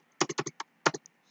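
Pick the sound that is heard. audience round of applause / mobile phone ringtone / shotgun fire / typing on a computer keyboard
typing on a computer keyboard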